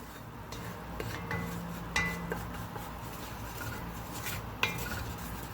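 Flour and oil are stirred into a roux in a pot for pot roast, with a utensil scraping steadily and a few sharp clinks against the pot, close up and without speech.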